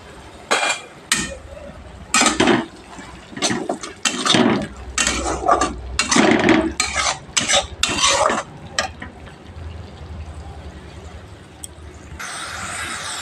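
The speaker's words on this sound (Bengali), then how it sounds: "এবার এখানে আমি টমেটো কুচানোটা এই সময় দিয়ে দিলাম দিয়ে ভালোভাবে নাড়াচাড়া করে নেব" A spoon scrapes and stirs spice masala with chopped tomato in a pan for mushroom kosha, making repeated loud, rhythmic bursts of scraping and sizzling before the frying settles into a quieter hiss.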